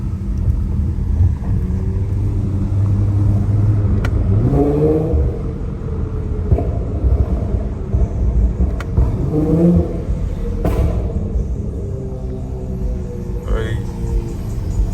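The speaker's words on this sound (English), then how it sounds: "Quick little Burble for the fucking hood." Tuned Infiniti Q50S idling on a downtown street, its exhaust giving a few short throttle blips and burbles over a low rumble, with people talking nearby.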